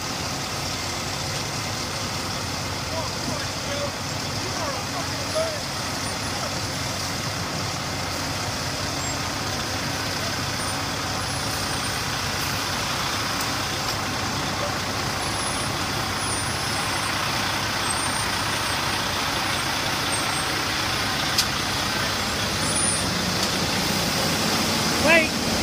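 Dump truck backing slowly into position to dump, its engine rumbling steadily at close range across a broad, continuous noise bed, with people talking and calling directions over it.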